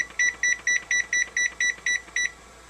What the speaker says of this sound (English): Set my stove timer